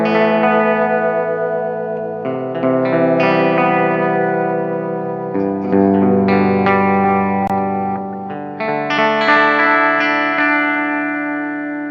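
Electric guitar playing sustained chords through an Xvive Echoman Mini analog delay pedal with the modulation turned way up, producing a loud, wavering, chorus-like wash of repeats that shifts between chords without pause.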